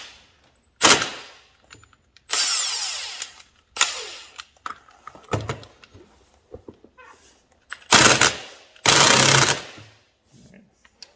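An impact wrench loosening the rear sprocket nut on a Yamaha Raptor ATV: five loud, harsh hammering bursts of about half a second to a second each, separated by quieter clanks and handling noises.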